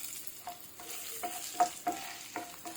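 Garlic and ginger are sautéed and stirred in a pan for a pirandai (adamant creeper) chutney, with quiet sizzling broken by several distinct scraping stirs of the utensil, and no voices.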